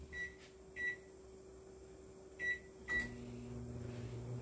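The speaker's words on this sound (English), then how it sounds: "I'm going to stick my hamburger meat in the microwave." Hamburger meat goes into a kitchen microwave, which gives a few short beeps spaced apart, followed by a door thump and then a steady low hum as it starts heating in a quiet room.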